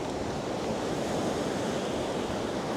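Waves washing onto a beach in Tsilivi, Zante, at night, a continuous soft roar of surf blended with wind noise on the microphone, fairly faint and steady with no voices.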